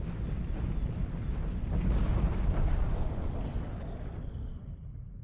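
Swarm of missiles bursting like a small fireworks display in the space strategy game Homeworld 2, a dense rolling rumble of overlapping blasts that swells in the middle and then thins out, with no talk over it.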